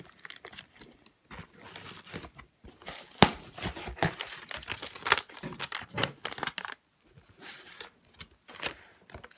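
A Gemini Jets model airplane box being opened and unwrapped at close range, with soft crinkling, tearing and rustling of packaging in irregular bursts and brief pauses.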